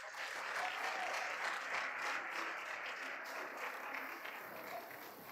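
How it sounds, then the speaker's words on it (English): Distant, faint applause from an audience at the ICPPA 2026 opening ceremony, a soft continuous patter that fades slightly toward the end. "Let's give them a big round of applause."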